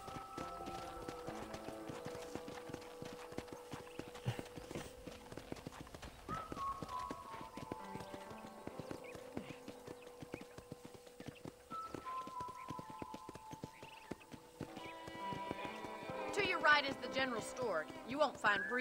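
Rhythmic clip-clop of a riding horse's hooves in Red Dead Redemption on Xbox One, trotting steadily under tonal game music and occasional voices, with a busier burst near the end.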